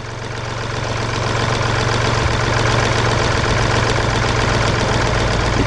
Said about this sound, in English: So now with the engine running, we'll do the same test again.